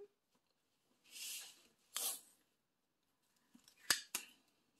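Scissors snip through washi tape and plastic film in several separate cuts: two longer slicing strokes, a pause, then a quick run of short, sharp snips, close up and alone.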